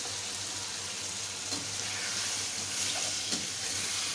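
Diced potatoes fry in hot oil for aloo bhujia, giving a steady close sizzle with a few soft stirring scrapes and no talk.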